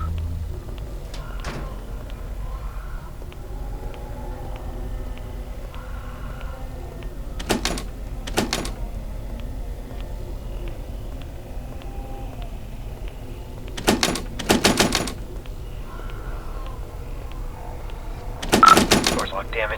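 In a horror video game, a locked door is tried several times. Sharp rattling clunks come in short, spaced bursts over a quiet, low ambient drone.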